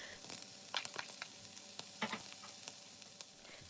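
Pieces of beef liver with onion, carrot and bell pepper sauté in a little oil in a pan, a soft steady sizzle broken by faint scrapes and clicks of stirring.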